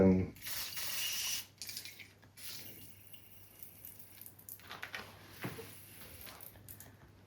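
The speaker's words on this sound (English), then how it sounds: "you use the proper MAF sensor cleaner and just spray this" A short hiss of an aerosol can of MAF sensor cleaner spraying opens, followed by quiet mechanical clicks and handling noises, with a second brief spray later, on a Toyota Land Cruiser 200 VX V8.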